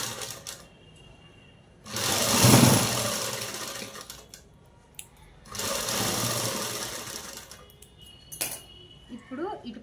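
Domestic sewing machine stitching fabric, running in two loud bursts of about two and three seconds with a quieter stretch between and a short final run, close by with no talk over it.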